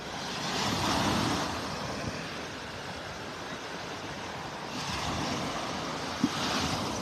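Ocean surf rolls and breaks steadily onto the beach at Lowdermilk Park in Naples, Florida, a continuous broad wash that swells twice, with wind and no voices.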